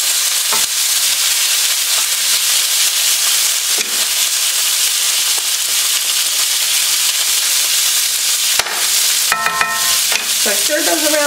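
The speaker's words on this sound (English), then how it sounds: "So I stirred those around a little bit." Food frying in butter in a pan for breakfast burritos, a loud continuous sizzle and hiss with a few spatula scrapes and clinks toward the end, close up.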